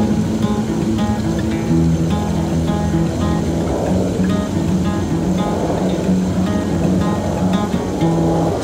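Fingerpicked guitar pattern from a song, thumb alternating with first and middle fingers, a steady repeating arpeggio of plucked notes played alone at moderate volume.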